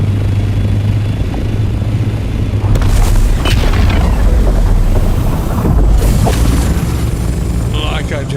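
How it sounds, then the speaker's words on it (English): A pre-spice blow erupts in the desert of Dune: Awakening in a video game, a loud deep rumbling boom over steady wind-like roar, swelling and fading across several seconds. "That's a pre-spice blow if you didn't know."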